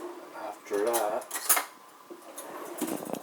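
Metal spoon stirring iced After Eight hot chocolate in a glass, close clinks and rattling scrapes in a quick burst, then lighter taps and clinks.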